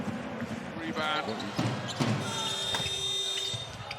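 A EuroLeague arena buzzer sounds as a long sustained electronic tone, starting midway through and holding to the end, over lively crowd noise and excited commentary.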